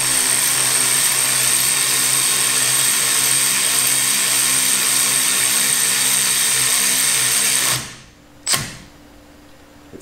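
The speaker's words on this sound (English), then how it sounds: "All right, so you get it started, put your torque wrench on." A Milwaukee M12 FUEL 1/2-inch digital torque wrench runs tightening a fastener, giving a loud, steady high-pitched motor whine for about eight seconds before stopping abruptly, followed by a brief second burst.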